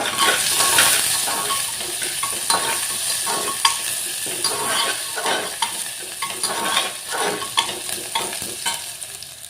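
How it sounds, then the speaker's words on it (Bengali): Whole cinnamon and cloves fry in hot oil as biryani spices, sizzling steadily while a spoon stirs and scrapes the pan in irregular close strokes. "দারচিনি দিয়ে দিলাম। দিয়ে এখন নাড়াচাড়া করি।"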